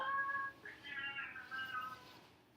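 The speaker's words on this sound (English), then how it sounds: "Be careful, there's a cat." Cat meowing during a yoga class at a cat shelter, one drawn-out, wavering mew that rises and falls, fairly faint and somewhat distant, with no speech over it.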